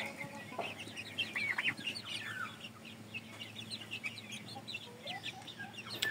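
Oshamo chickens cluck softly and steadily in a busy coop, with scattered chirps and tweets mixed in, no voices present.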